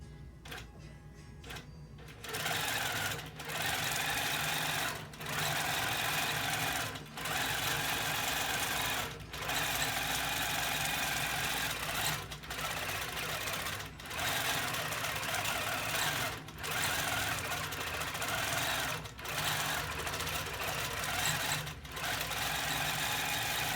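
A longarm quilting machine stitches in a fast, steady mechanical rhythm close by, running continuously with brief regular dips in loudness as its speed is adjusted; no voices.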